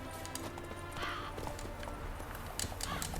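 Roach, the horse from The Witcher 3 video game, gallops along with steady rhythmic hoofbeats, close and moderately loud over faint background sound.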